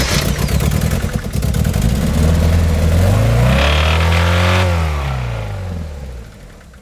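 A Honda D16Z6 engine with a hole in its block, pulled from an EK hatch, cranks and starts up loud and close, its revs rising and then falling back with a rattling clatter, no talk.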